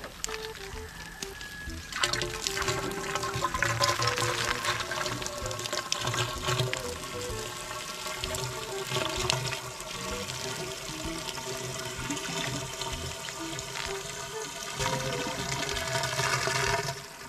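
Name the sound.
water flowing from deep well pressure pump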